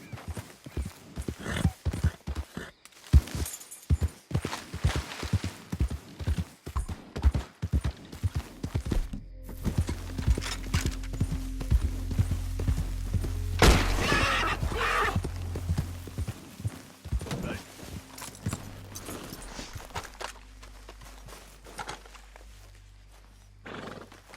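A horse in Red Dead Redemption 2 trots and gallops with rapid hoof clip-clops, then lets out a loud neigh midway, while low rumbling and wind fill the later part.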